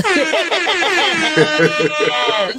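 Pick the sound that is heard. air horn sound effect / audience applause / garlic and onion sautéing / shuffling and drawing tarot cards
air horn sound effect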